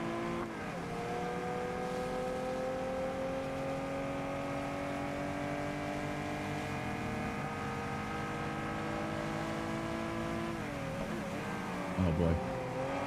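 A car drives on wet roads in rain in TDU Solar Crown, its engine holding a steady, close drone, with a shift in pitch and a brief bump near the end.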